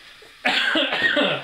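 A single harsh cough erupts close to the microphone after a quiet moment, followed by a rougher tail of throat rasp and breathing.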